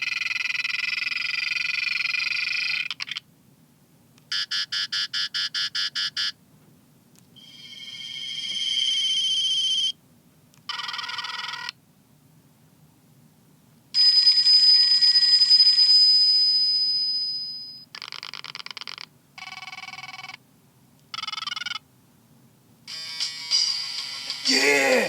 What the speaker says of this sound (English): Polyphonic ringtones, I told you!